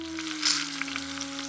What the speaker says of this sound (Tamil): சூடானதும் கொஞ்சம் எண்ணெயை ஊற்றி சோம்பு சேர்த்துக்கலாம். 4 பச்சை மிளகாய், 1 பிரியாணி இலை மசால்,